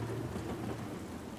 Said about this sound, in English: I like how they've done the storm in this game, like with these stormy clouds and the rain, but the lightning as well.